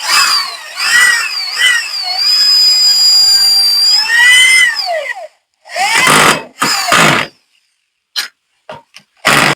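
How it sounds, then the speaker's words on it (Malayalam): A power drill drives self-tapping screws into a wooden post, its high motor whine rising and falling up close, followed by several short, sharp bursts of drilling. "സെൽഫ് സ്ക്രൂ ആണ് അടിക്കുന്നത്"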